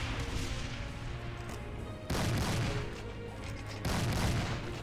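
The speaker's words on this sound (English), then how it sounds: "What I can spam is the freeze gun, though." A freeze gun in Complex Doom firing in the game, heavy booming blasts that roar on continuously with two sharp louder bursts partway through, dense and loud, with no speech.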